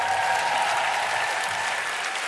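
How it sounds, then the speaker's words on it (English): A crowd at the Roundhouse, a London venue hosting a spoken word and comedy festival, gives sustained, loud applause, a dense even roar of clapping with a few faint voices mixed in. "Can we have a big, big round of applause"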